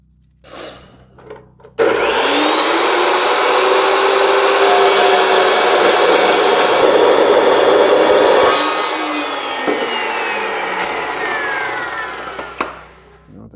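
A VEVOR 2x72 belt grinder spins up and grinds steadily, a loud close whine with rising and falling pitch for about eleven seconds before the motor winds down, with no talking.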